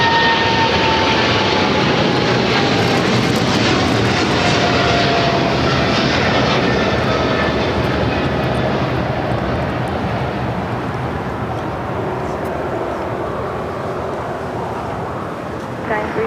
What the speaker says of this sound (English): this pretty brand new 777 freighter just delivered in November of 2023